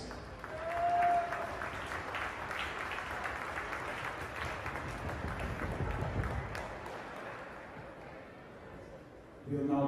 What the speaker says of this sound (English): Let's give Coach Postman a round of applause.